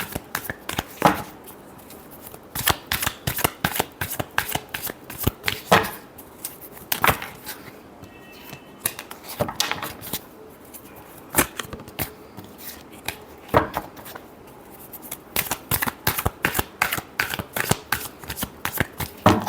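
Tarot cards being shuffled for a reading, a long run of rapid riffling and slapping bursts that come in repeated bouts with brief pauses, close and clear with no talk.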